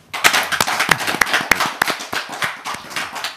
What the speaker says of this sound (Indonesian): Tepuk tangan buat Abah Setu